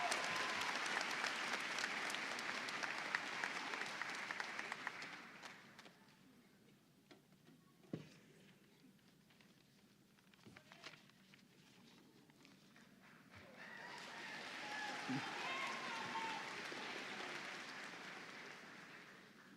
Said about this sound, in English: Let's give a warm round of applause to congratulate and honor our valedictorian